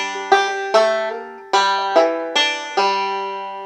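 Banjo lick with the fifth note left out by the right hand, about six crisp plucked notes ringing close and clear in an uneven rhythm, alone without talking.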